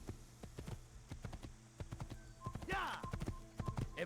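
Horse hooves clop in the Assassin's Creed video game, irregular sharp taps at moderate distance, joined by a brief whinny-like cry near the middle and a low background hum.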